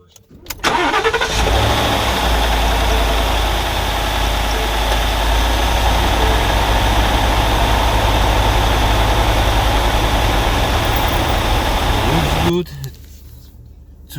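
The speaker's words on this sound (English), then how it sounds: "I'm going to start the engine and check the oil pressure inside" The Coyote 5.0L V8 in a 2016 Ford F-150 cranks and catches right after an oil change. It settles into a loud, steady idle for about twelve seconds, then the sound cuts away.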